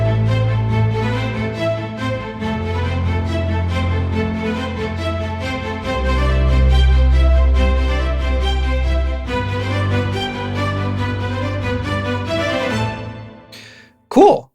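Strings from a free orchestral sample library play a repeating ostinato: steady, rhythmic note patterns layered over sustained low tones, loud and close throughout, ending with a brief cut and a short burst.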